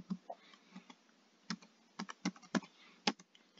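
Close, irregular keystrokes on a computer keyboard while a search for PuTTY is typed, crisp separate clicks with short pauses between them and no talking.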